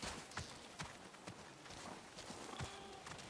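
Horse hooves clip-clop at a steady walking pace in the Ghost of Yōtei video game, close and fairly loud over a busy outdoor background.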